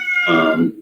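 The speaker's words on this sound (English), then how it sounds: "that's my cat in the background" A house cat gives one drawn-out meow, loud and close, lasting under a second and falling in pitch toward the end.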